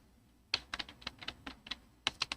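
Someone types Java code on a computer keyboard, giving a short burst of crisp clicky keystrokes in an uneven rhythm after half a second of quiet. The clicks are close but quiet, with no talking over them.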